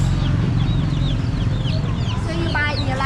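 Live chickens cluck and chirp among the steady hubbub of a busy wet market in Saigon, Vietnam, where seafood and poultry are sold. The birds are fairly close over a dense crowd murmur.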